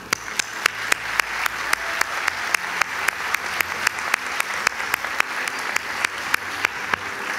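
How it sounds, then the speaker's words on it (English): Graduation ceremony audience at University of New York Tirana in 2023 gives a steady, dense round of applause that fills the hall, with sharp individual claps standing out at a regular pace throughout. "So I think we need one more round of applause."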